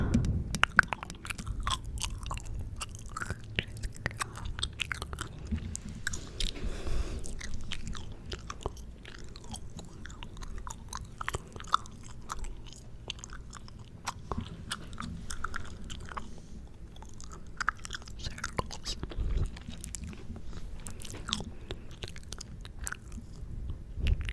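Chewing gum, steady close-up wet chewing and soft biting clicks repeating throughout, quiet and intimate with no talking.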